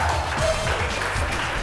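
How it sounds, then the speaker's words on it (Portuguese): An audience applauds for a performer in a dense, steady wash of clapping that is moderately loud and continuous, with faint voices mixed underneath. "Palmas pra ele, foi muito bom."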